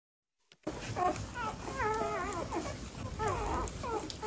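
Small puppies from a litter of twelve whimper and whine in high, wavering cries that start after a brief silence, several overlapping yelps close by, with a possible voice mixed in.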